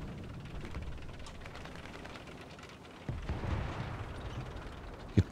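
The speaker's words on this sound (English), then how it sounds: "There goes ammunition set off" Tank ammunition cooking off in War Thunder tank combat, heard as a low, rumbling boom rising midway over a steady battlefield din, with a sharp brief pop near the end.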